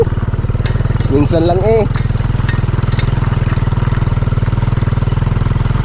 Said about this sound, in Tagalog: Tinatanggal mo pa lang yung makina pre pag ano, hindi ginagamit yung bangka.